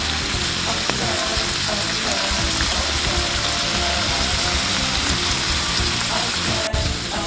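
Brown stewed fish fillets and vegetables sautéing in a pot, a loud, steady crackling sizzle with occasional stirring clinks.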